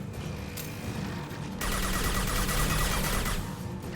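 Sustained burst of video-game gunfire in Mass Effect 2, a dense rapid rattle that swells louder and brighter partway through and holds steady to the end.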